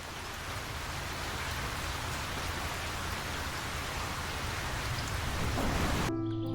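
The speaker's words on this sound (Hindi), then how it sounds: "सामने अचानक बादल घिर आए और बूंदाबांदी शुरू हो गई।" Steady drizzle falling in a mountain village, a soft continuous patter of light rain close by that holds evenly throughout and cuts off abruptly just before the end.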